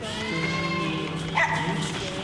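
A dog barks in a scene from the 1991 film Silence of the Lambs, short yelps mixed under a steady music and voice bed at moderate level.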